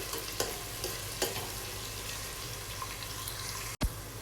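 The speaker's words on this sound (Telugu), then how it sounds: "కర్రీ లీవ్స్, అలాగే రెడ్ చిల్లీ, ఇవన్నీ వేసిన తర్వాత ఇలా ఫ్రై చేయాలండి" Onions, curry leaves and red chilli frying in a pan for tomato pappu, a steady low sizzle with faint stirring taps and a sharp knock near the end, no voices.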